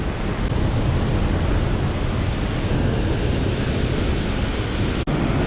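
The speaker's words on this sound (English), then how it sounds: "The breeze you get from this canyon, it feels great." Steady, loud rushing wind blowing through a canyon near Zermatt, a continuous broadband roar buffeting the microphone for the whole stretch, with no voices.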